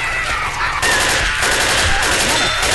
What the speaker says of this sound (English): shoot it, Sarah!